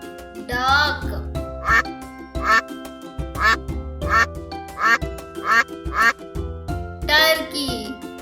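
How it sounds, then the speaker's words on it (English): A duck quacks loudly and close in a steady series of about a dozen nasal quacks, with a couple of longer raspy calls at the start and near the end. "duck,"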